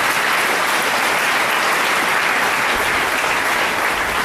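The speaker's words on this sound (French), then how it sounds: "Nous applaudissons pour le Seigneur parce qu'il a véritablement révélé la situation à son prophète." A congregation at a church service breaks into loud, sustained applause, a dense roaring clap that fills the room evenly with a faint low rumble underneath.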